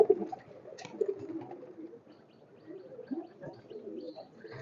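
A pigeon coos softly at close range, a few low, throaty coos in a quiet setting.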